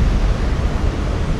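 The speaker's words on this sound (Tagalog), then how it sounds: "malakas ang hangin." Loud, steady roar of strong wind buffeting close by at Daga Beach, a white sand beach in the Bicol region of the Philippines, a dense rushing noise with no other sounds.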